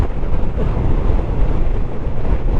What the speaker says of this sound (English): the wind's blowing me around like no one's business